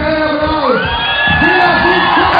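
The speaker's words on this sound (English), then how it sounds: "the crowd are going wild for her" Loud crowd at a women's bouldering World Cup final in Slovenia cheers and whoops wildly for a home climber, a dense continuous roar with rising shouts and yells throughout.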